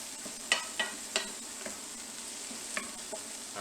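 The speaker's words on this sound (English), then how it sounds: "Checking on those mushrooms. Looking pretty good. Mushrooms are cooked mostly through." Mushrooms sizzle steadily in a frying pan for chicken chasseur, with a utensil scraping and stirring in several sharp, close strokes over the continuous hiss of frying.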